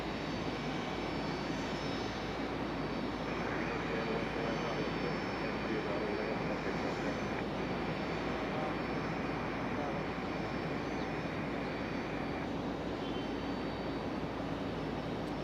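A plane at Raleigh-Durham International Airport produces a steady, loud engine roar that holds throughout, with a brighter band rising in the middle stretch as the aircraft passes close.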